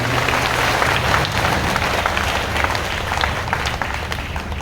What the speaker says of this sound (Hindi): गढ़वा जिले के लिए एक बार हम सब तालियों की गड़गड़ाहट कर रहे हैं।